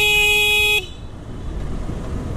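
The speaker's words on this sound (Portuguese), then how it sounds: "Agora a buzina ficou boa." A car horn gives one loud, sustained honk lasting under a second, then cuts off abruptly, leaving the rumble of road traffic in the background.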